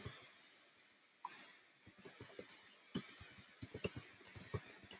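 Quiet, irregular clicking of keys being typed on a computer keyboard, sparse at first and then coming in quicker clustered taps, close by with no talking.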